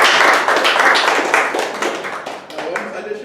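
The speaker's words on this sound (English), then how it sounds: "Please give him a big round of applause. And another continuous applause for our Toastmaster of the evening." Audience clapping at a Toastmasters meeting, a dense burst of applause that eases slightly midway and then carries on steadily.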